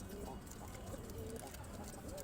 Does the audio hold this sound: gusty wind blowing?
no